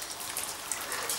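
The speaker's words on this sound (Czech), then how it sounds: "Nikde neprší takový smutný déšť" Rain falls steadily in Jerusalem, a soft, even hiss of drops spattering on surfaces with a few brighter nearby splashes, heard alone without voices.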